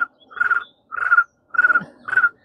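A voice imitates a cricket with four short, buzzy chirps in a steady rhythm, each a trilling burst separated by brief pauses, close and clear.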